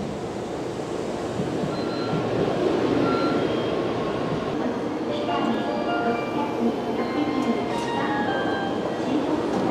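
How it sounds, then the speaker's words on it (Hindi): A Japanese bullet train pulls into a station, its steady rumble and rail noise filling the platform continuously while people talk over it. "ट्रेन आ भी गई। ये दिखती है कुछ ऐसी भाई बुलेट ट्रेन"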